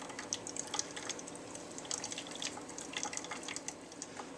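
Coffee drips from an inverted coffee brewer being pressed over a mixing cup, a faint run of irregular small drips and patters over a soft liquid hiss.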